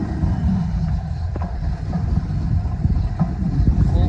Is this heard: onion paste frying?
no